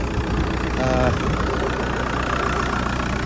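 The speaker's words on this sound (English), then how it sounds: "And there's that well-regarded TDI engine." A VW Golf Mk4 GT TDI diesel engine idles steadily with a low, even rumble, close by, and a brief voice is heard faintly over it.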